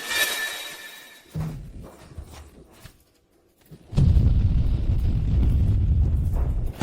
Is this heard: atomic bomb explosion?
yes